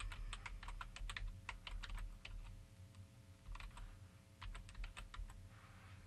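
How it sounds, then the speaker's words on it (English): Someone types a web address on a computer keyboard in quick bursts of clicking keystrokes, close but quiet against a low steady hum, with a short pause midway. "So I would like you to type www.totaltraining.com"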